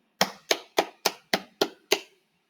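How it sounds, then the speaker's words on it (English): Seven sharp single hand claps in an even, unhurried rhythm, close and crisp with silence between them and no voices. "Let's clap to say thank you."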